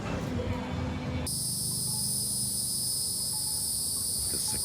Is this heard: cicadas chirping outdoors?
yes